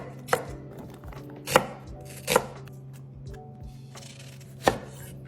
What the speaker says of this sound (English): You're gonna chiffonade.